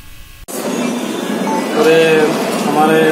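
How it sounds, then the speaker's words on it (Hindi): A Bandra–Jaipur superfast express train arrives at Vapi railway station, a loud rolling rumble with metallic wheel squeals that builds after a sharp onset, while a crowd chatters nearby. "આ superfast express train Vapi railway સ્ટેશને આવી પહોંચતા"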